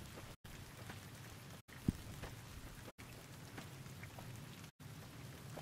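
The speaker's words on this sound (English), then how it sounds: "Ah, here comes the rain." Steady rain pours down outdoors in Zion, a continuous hiss of drops striking surfaces with a few brief dropouts and one sharp tap, no voices.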